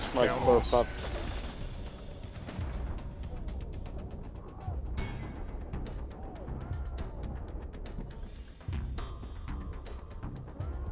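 Enemy gunfire in Borderlands 2 breaks out in dense bursts of shots and mechanical clatter that keep going under game noise throughout, with a loud cluster at the start.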